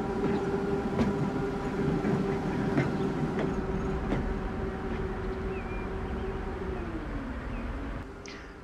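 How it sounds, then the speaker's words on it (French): A tram pulls in and stops on track 1 inside a depot in Transport Fever 2, with a steady rolling rumble, a whining tone that slides down as it slows, and a few clanks. "à l'intérieur du dépôt, le tramway s'arrête sur la voie 1"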